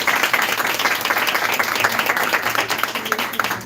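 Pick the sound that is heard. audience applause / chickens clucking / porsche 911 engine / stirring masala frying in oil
audience applause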